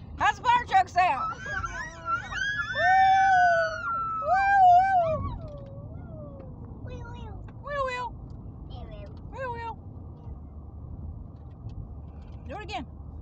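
A voice imitates a fire truck siren with rising and falling wails, loud and close, followed by quieter vocal bits and a short adult remark.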